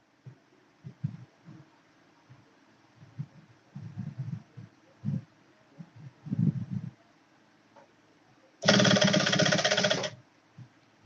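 Sewing machine joining a sleeve to a corset bodice at a half-inch seam, short intermittent stitching bursts followed by one loud sustained run of about a second and a half, close up.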